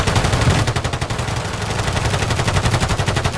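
Rapid, steady automatic gunfire in Call of Duty: Warzone, a continuous close stream of evenly spaced shots with no talk over it.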